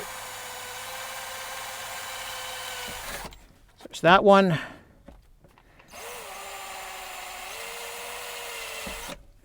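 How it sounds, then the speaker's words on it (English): A 1/8 inch drill bores holes in a 1999 GM truck dash cover during recall kit installation: a steady whirring drone runs for several seconds, stops, then resumes for a similar stretch, with a brief spoken remark in the pause. "they want us to come up with a 1/8 inch drill"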